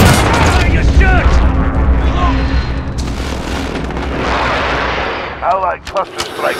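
Allied cluster strike in Call of Duty: Modern Warfare, a chain of heavy booming explosions and artillery-like blasts rolling one after another, loud and close, mixed with gunfire and shouted battlefield voices.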